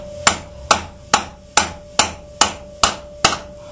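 Parts hammered tightly into valve seats in a cylinder head at an engine machine shop, eight crisp, regular metallic blows with a steady ring between them, close up and without speech.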